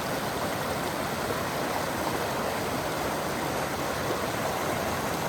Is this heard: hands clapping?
no